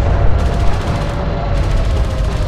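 Continuous heavy gunfire and explosive rumble pound an armored vehicle in the PC game Homeworld: Deserts of Kharak, a dense, loud, steady barrage with a faint tonal hum beneath and no voices.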